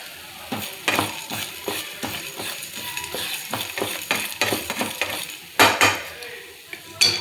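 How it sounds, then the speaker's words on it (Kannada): Byadgi chillies fry in oil in a pan on a low gas flame, with soft sizzling under repeated clinks and scrapes of a spatula stirring against the metal, close and uneven in rhythm. "ಅದ್ರ ಮೇಲೆ ಸ್ವಲ್ಪ ಆಯಿಲ್ ಹಾಕೋತಾ ಇದ್ದೀನಿ. ಆಯಿಲ್ ಹಾಕ್ಕೊಂಡು ಇವಾಗ ಹುರಿತೀನಿ."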